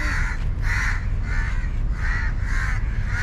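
A caught bird caws repeatedly and loudly up close, about six harsh evenly spaced calls over a low rumbling background.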